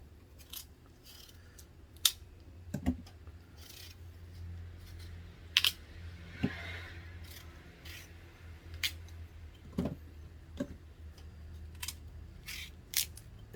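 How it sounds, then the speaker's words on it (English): Quiet knife cuts through raw chayote in a home kitchen, a sparse series of faint crisp snips and taps at irregular intervals over a low background hum. "So we cut the chayote now."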